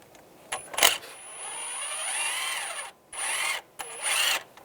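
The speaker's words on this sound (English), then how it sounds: "Now we're going to take the bolts off. Use a 10mm socket." Ratcheting tool zipping out bolts with a 10mm socket on a 2011-2018 Ram 1500 during coolant crossover pipe replacement; several short whirring bursts with pauses, close and moderately loud.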